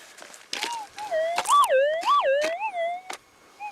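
A gold prospector's metal detector in the Australian outback gives a series of rising and falling electronic warbling tones, heard faintly through headphones, punctuated by sharp clicks and scraping thuds from digging nearby.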